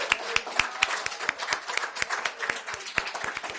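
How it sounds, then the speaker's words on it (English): An audience applauds the six poets at the Sacramento County Poetry Out Loud recitation competition, 2025. The claps are fairly sparse and close, with sharp individual hand claps in an uneven rhythm and no talk over them. "Let's give a big round of applause for all 6 of our poets today."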